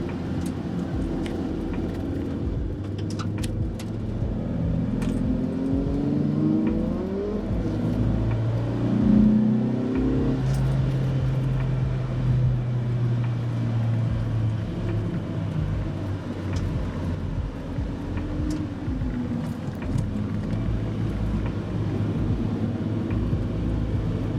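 Race cars on a parade lap at Mondello Park race track make a steady engine drone heard from inside a car, with rising and falling tones as the car speeds up and shifts, continuous and fairly loud.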